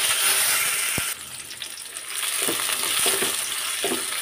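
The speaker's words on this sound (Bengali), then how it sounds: "এখানে তেজপাতা, এলাচ, দারচিনি, কাঁচামরিচ সব একত্রে দিয়ে দিব। তেলটা গরম হয়ে গেছে।" Whole spices—bay leaf, cardamom, cinnamon—and green chilies dropped into hot oil for a chicken curry sizzle steadily, with a brief knock near the start and scattered crackles and stirring clatter throughout.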